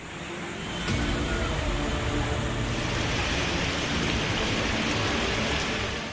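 Steady monsoon rain falling in Delhi, a dense, continuous hiss of downpour that swells after the first second and holds evenly, with no voices.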